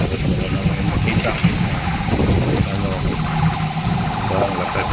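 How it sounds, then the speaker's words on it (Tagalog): Steady roar of heavy rain pounding surfaces during a thunderstorm, with gusting wind noise throughout, loud and continuous, with no clear speech. "Sobrang lakas ng ulan at hangin"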